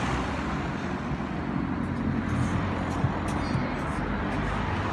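Road traffic passes a city bus stop as a steady broadband roar of cars and buses, close and fairly loud, with a few brief higher clicks and no talking.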